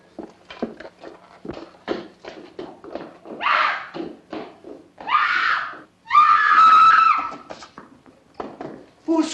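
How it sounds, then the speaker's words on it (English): A woman in a horror film screams in several loud, sustained bursts, mixed with thumps, taps and footsteps, under scattered short spoken words. "Who screamed?"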